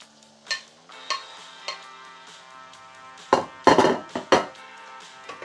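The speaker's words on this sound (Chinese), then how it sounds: "不停咁翻炒佢" Shrimp and onion are stir-fried in a wok for a shrimp and cucumber dish. A metal spatula clanks and scrapes in sparse strokes, then a denser, louder burst of tossing strikes follows near the end, close and without talk.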